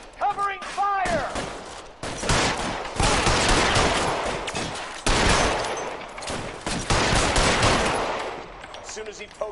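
Bursts of rapid automatic gunfire crackle in a shootout in the video game L.A. Noire, with repeated volleys over several seconds and voices talking in between.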